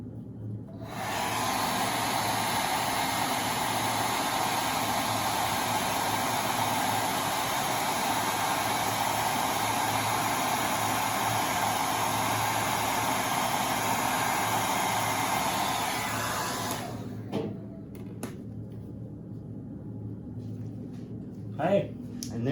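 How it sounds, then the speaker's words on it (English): A hair dryer blows steadily and loudly for about sixteen seconds while a chocolate showpiece is being worked, then cuts off, leaving faint room noise and small clicks. "Hair dryer's getting tired."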